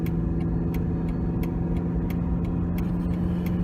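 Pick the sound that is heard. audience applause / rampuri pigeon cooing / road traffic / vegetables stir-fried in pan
road traffic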